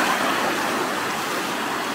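A waterfall beside the Silvretta mountain road in the Alps, a steady broad rushing roar of falling water, close and continuous with no talk.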